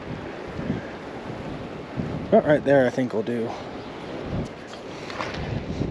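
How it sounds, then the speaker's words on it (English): Gusty wind blusters across the microphone beside a river while fishing for brown trout ahead of an incoming storm, a steady rushing roar with someone speaking briefly partway through. "And it got windy down here."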